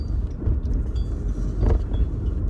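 Steady low rumble of road and engine noise inside a moving car, continuous and close, with no talk.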